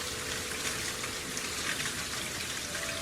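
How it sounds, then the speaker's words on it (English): Soft, steady rain patters all around, a dense hiss of drops on surfaces with no voices. "And you can hear the rain all around you."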